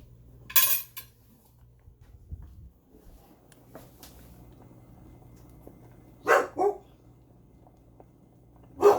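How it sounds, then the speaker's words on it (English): Dogs bark in a kitchen during egg cooking, with one sharp bark early, a double bark later and another at the end, over a low steady hum and faint clinks of cookware. "Dogs are barking at you."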